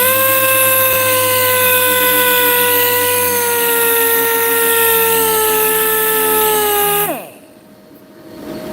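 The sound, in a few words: power sanding with sandpaper on BMW E36 M3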